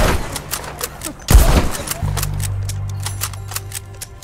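Gunfire rings out in Red Dead Redemption 2, with scattered sharp shots throughout and a loud close blast in the middle, followed by a sustained low rumble, and no talk.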